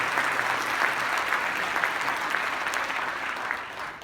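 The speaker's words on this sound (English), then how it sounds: "How about a round of applause for the UAA putting on this show?" Audience at a comedy show in Anchorage, Alaska applauds steadily, a dense wash of many hands clapping at moderate distance that slowly eases toward the end.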